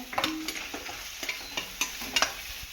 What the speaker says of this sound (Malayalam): ഇത് നമ്മൾ ഈ ഉള്ളിയും മുളകും മൂപ്പിച്ചതിനകത്തേക്ക് ഇടുകയാണ്